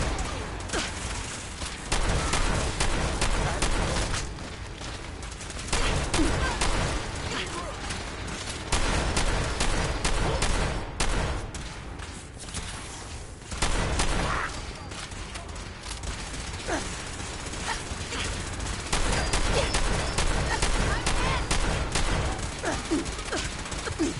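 Sustained gunfire in Fallout 4, dense bursts of automatic and rapid shots crackling nearly continuously with brief lulls, loud and close, with shouted voices mixed in.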